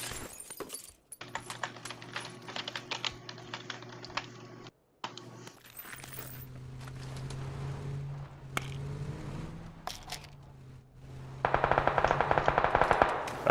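Rapid bursts of automatic gunfire in the video game PUBG, repeated rattling volleys mixed with keyboard clicks and some engine noise, fairly close and loud with short pauses between bursts.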